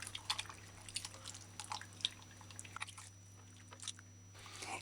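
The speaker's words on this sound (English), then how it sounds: "squeeze the fruit, releasing the fruit's juice in the water" Soft wet squelching and dripping as pulpy mountain soursop fruit is squeezed by hand in water, irregular squishes close up and quiet, over a low hum.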